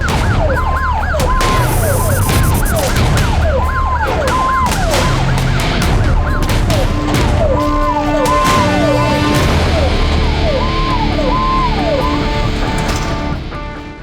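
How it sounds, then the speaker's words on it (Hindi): Several wailing sirens rise and fall together in continuous loud sweeps, from a UP police convoy and an ambulance carrying a wheelchair-bound prisoner as they set off toward Banda, with traffic rumble beneath throughout. "व्हील चेयर पर सवार मुख्तार को एम्बुलेंस में चढ़ा दिया गया और यूपी पुलिस का काफिला बांदा के लिए रवाना हो गया"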